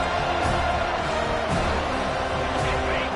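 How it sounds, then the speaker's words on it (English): Loud, continuous roar of a stadium crowd cheering at a football game, a dense wash of voices heard up close with a broadcast commentator talking over it. "this crowd will blow out a vocal cord to help this defense"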